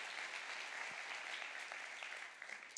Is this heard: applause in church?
yes